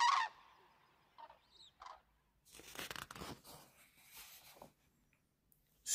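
Common cranes calling outdoors in a few loud, trumpeting bursts, separated by short quiet gaps, with no voices.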